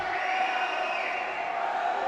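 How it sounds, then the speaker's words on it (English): Spectators at a veteran judo team championship raise a loud, continuous crowd roar of protest after a throw, a sustained wash of voices with no pauses. "the crowd is complaining"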